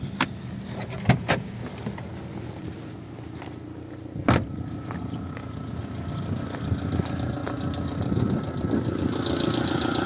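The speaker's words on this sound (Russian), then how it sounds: "Двигатель нормально работает, не троит, не дымит, не шумит." A Daewoo Matiz with a five-speed manual gearbox idles, its engine running in a steady low hum heard from inside the car, with a few sharp clicks and knocks early on and the drone growing slightly louder toward the end.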